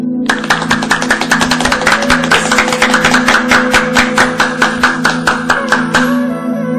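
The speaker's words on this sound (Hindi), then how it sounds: "सुखासन में बैठकर दोनों हाथों से एक बार में 20 से 25 बार ताली बजाएं।" Rhythmic hand clapping done as a seated yoga exercise in sukhasana, a long even run of loud, close, evenly spaced claps over a steady low hum, stopping near the end.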